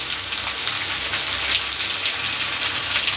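Jackfruit manchurian frying in a pan as a spoonful of vinegar goes in, giving a steady, close, even sizzle with fine crackle and no voices.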